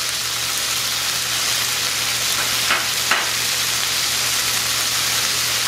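Beef searing in a hot pan with plenty of rendered beef fat, a loud, dense, continuous sizzle close up, with a couple of brief sharper spatters partway through.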